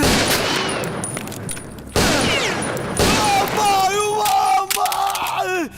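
Gunfire rings out in a Kannada action film scene, with sharp loud shots and bursts amid shouting, crowd yells and dramatic music.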